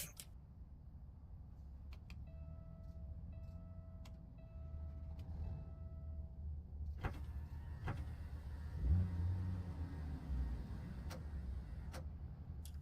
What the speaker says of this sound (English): let's go ahead and climb in the truck, get her fired up, and let's do some trucking.